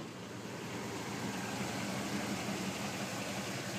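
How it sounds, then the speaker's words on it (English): A 1975 K-5 Blazer engine idles steadily with a low, even burble from its side-mounted dual exhaust, fairly quiet and close, with no voices. "Let you hear the exhaust, which is on the side back here. There's dual exhaust."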